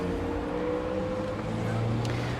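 A 2021 Porsche Taycan 4S electric car surging forward on a throttle tap, with a rising electric motor whine over steady road and cabin noise, and a voice briefly audible underneath.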